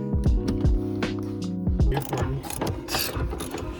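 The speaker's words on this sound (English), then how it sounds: "But I'm gonna take these bolts out right now because they mounted this shit wrong." A ratchet wrench clicks through rapid bursts of pawl ratcheting while loosening wrongly mounted bolts on a car, the close, loud clicking coming in quick runs with short pauses and mechanical clatter between.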